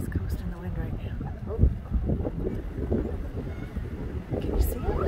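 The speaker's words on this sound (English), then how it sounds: "That wind is crazy." Strong gusting wind buffets the microphone outdoors near water on a windy day, a steady roaring rumble with bursts, while a person talks over it.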